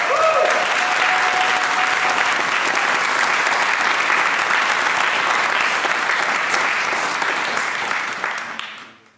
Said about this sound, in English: One more really, really loud applause.